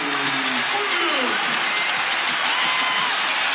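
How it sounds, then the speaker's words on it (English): Dense, roaring crowd noise at an NBA basketball game in an arena, Lakers against Cleveland, with cheering and applause swelling under a commentator's voice for the whole stretch. "And the crowd fires"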